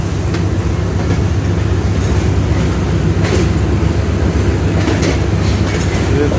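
The 42 Down Karakoram Express rolls loudly and continuously past at close range, a steady heavy rumble with rhythmic clickety-clack of wheels over rail joints at a station.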